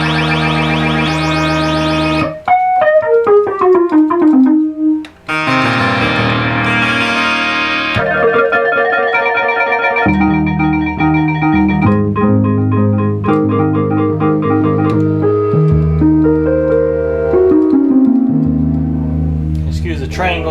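A Memorymoog Plus analog synthesizer, restored, plays loud buzzy sustained tones while its settings are changed. Sweeping pitch glides, filter changes and layered chord patches follow one after another with no talking.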